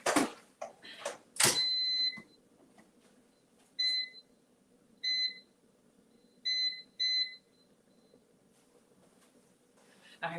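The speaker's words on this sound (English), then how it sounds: "these are going to go in the air fryer" An air fryer chirps through a series of short electronic beeps as its buttons are pressed, about five or six separate tones with pauses between, mixed with a few sharp clicks and knocks.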